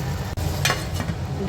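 Prawns go into a hot pan with coconut milk for a prawn pulao, giving a steady close sizzle with a brief scrape of stirring partway through and no talk.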